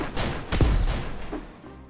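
Gunfire in the VR video game Crystal Raiders, a burst of close, loud shots around the middle of a short stretch of busy game noise, fading toward the end.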